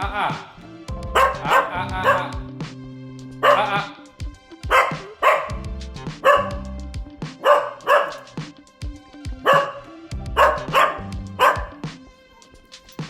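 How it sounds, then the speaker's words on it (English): A rescue dog with separation anxiety barks loudly and repeatedly up close in quick bursts, with a few whiny yips mixed in. "she just barks incessantly for hours"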